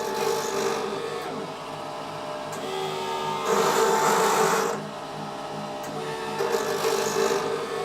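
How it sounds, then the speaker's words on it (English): A drilling machine runs in its 2-9 oscillation mode with a steady mechanical whir and rasp, swelling louder for a stretch midway and again near the end, with no talk. "The machine will be oscillation in 2-9 mode"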